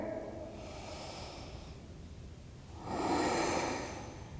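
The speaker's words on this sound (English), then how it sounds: "long deep breathing" Slow deep breathing during a morning yoga session, two long soft exhalations heard close and quiet, separated by a pause.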